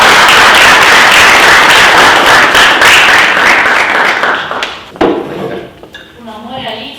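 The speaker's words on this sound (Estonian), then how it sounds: "Tehke meie külalisele ka auväärt aplaus." Loud, dense applause from an audience at a cultural evening fills the room for several seconds, then thins out and fades as voices begin to talk.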